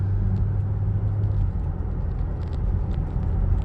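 A flood-damaged Cadillac SRX with 27,000 miles drives along in a steady, low engine and road rumble heard from inside the vehicle, with no distinct gear change standing out.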